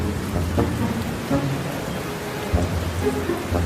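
Steady, heavy rain pours in an animated cartoon, with low rumbles of thunder rolling underneath throughout, loud and continuous without any voices.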